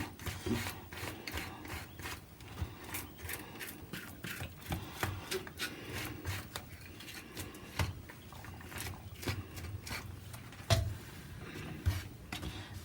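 A knife scrapes the scales off a sardine (mathi fish), giving a steady run of close, rapid rasping strokes with short scratchy clicks throughout and no one talking.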